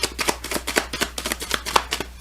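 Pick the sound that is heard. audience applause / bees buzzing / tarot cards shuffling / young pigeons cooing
tarot cards shuffling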